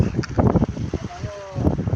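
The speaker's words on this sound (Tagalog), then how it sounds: "Hangin na eh, maalo na oh." Gusty wind buffets the microphone in loud, uneven rushes on Laguna Lake, with a faint whine and choppy water lapping underneath.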